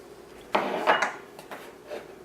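Butter dropped into a glass bowl set over a pot for melting, with a few clinks and knocks of glass and utensils, close and moderately loud.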